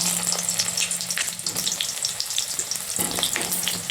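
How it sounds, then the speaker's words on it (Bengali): Pieces of pointed gourd (potol) dropped into hot oil, frying with a busy crackling sizzle, close and steady, with a few splashy pops and stirring sounds. "তেল গরম হয়ে গেছে, এক এক করে পটলগুলো আমরা তেলের মধ্যে এবার ছেড়ে দেব।"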